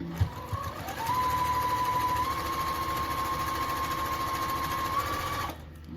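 A sewing machine stitches steadily around the edge of a fabric bowl cover, a close, continuous motor whir that starts after a brief bump and runs evenly for about four seconds before stopping.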